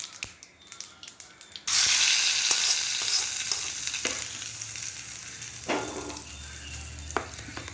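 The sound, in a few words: mustard seeds, urad dal and asafoetida frying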